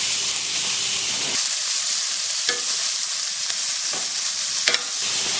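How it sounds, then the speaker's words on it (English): Ham and bacon sizzling loudly in a hot pan, a dense continuous hiss with occasional scraping stirs and spatters, no talking. "So I'm going to start by getting our ham and our bacon right down into the pan."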